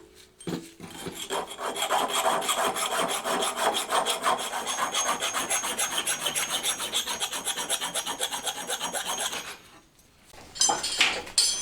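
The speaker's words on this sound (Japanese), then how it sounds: "あとは手やすりで細かい部分を仕上げていきます。" A hand file rasps over small metal parts in quick, steady back-and-forth strokes. The scraping is close and continuous, breaks off briefly near the end, then starts again, with no talking.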